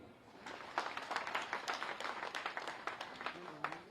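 A crowd claps at an outdoor election campaign rally, a quiet, somewhat distant burst of scattered hand claps swelling briefly and then thinning out.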